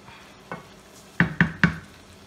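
Minced meat, high in fat, frying in a pan while a spoon breaks up the lump for tagliatelle bolognese; one soft knock, then three sharp scraping hits in quick succession over a faint sizzle, with no talking.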